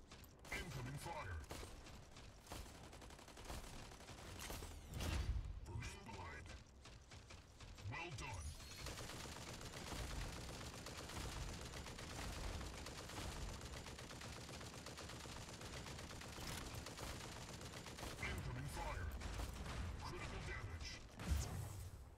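Gunfire crackles through a 2v2 video game match, quiet bursts and mechanical clatter mixed with game effects under a player's intermittent talk.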